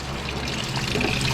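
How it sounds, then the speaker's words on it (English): Coolant draining out of a 1953 Ford Jubilee tractor radiator, a steady close splashing trickle of liquid that runs unbroken throughout, with no talking. "Coolant coming out of it looks pretty good."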